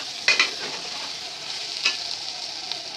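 Rice being stirred and fried in a pan for chicken polao, a soft sizzle underneath a few sharp scraping clinks of a utensil near the start and another about halfway through.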